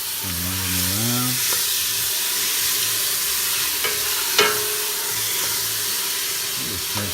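Onions frying in a pan for zucchini lasagna, a loud continuous sizzle and hiss with occasional utensil scrapes and taps as they are stirred, close up, a brief voice-like tone near the start.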